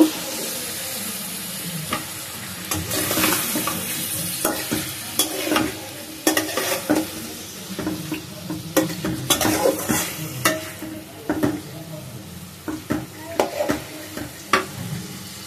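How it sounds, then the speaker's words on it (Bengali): Snakehead fish pieces sizzle in spices in a pan while a utensil scrapes and stirs them in repeated, uneven strokes, close and fairly loud, with no speech. "এখন আমি দিয়ে দিচ্ছি শোল মাছগুলো। আমি মাছটা আবার ভালো করে একটু কষিয়ে নিব।"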